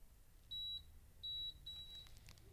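A multimeter gives two short, clear beeps, then a longer, fainter tone, while its probes test the fuse of a Sega Saturn that has no power, in an otherwise quiet room.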